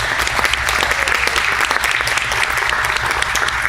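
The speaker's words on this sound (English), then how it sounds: "If you'll give the side award winners a round of applause." Loud, close applause from a pageant audience for award winners, a thick continuous patter of many hands clapping with sharp individual claps standing out.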